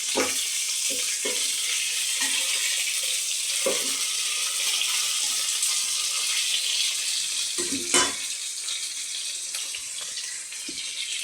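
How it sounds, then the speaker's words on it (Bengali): Onion frying lightly in a pan, a continuous soft sizzle with occasional clinks and stirring knocks, steady and close, with no talking. "তো এখন আমি পেঁয়াজটা একটু ভেজে নেব, হালকা করেই ভাজবো"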